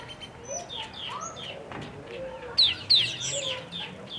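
A pheasant at a zoo gives two sharp, brief calls in quick succession, fairly close, among other scattered bird chirps and clucks, with people talking softly in the background.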